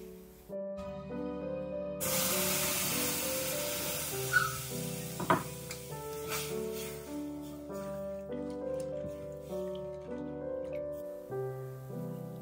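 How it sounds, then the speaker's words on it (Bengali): Semolina frying in ghee in a home kitchen pan gives a steady, soft sizzle that starts about two seconds in and continues under prominent background music, with a couple of brief clinks. "সুজিটাকে একটুখানি ঘি দিয়ে ভালো করে ভেজে নিচ্ছি"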